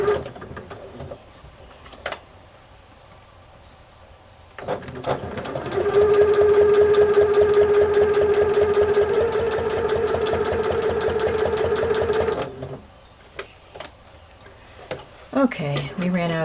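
A sewing machine runs a straight stitch in a fast, loud, continuous mechanical whir for several seconds, with quieter stretches and clicks before and after.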